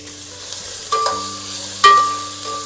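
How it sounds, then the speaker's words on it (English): Onions, garlic and ginger sizzle in a little oil in a pan for a plant-based autumn soup, a steady close hiss broken by two brief utensil taps. "Now I'm going to start by sauteing the onions, garlic, and ginger with a little bit of oil"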